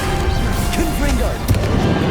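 A Confringo fire-blast spell bursts in the Hogwarts Legacy video game, short booming cracks amid busy combat noise, with a voice calling out briefly.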